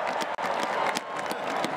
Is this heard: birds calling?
no